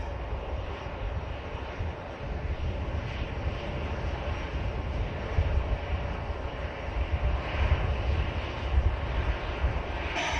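An airliner arriving at Manchester Airport, a continuous low engine rumble with a broad roar that swells slightly and stays moderately distant throughout, with no voices.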